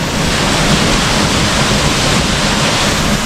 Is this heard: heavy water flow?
yes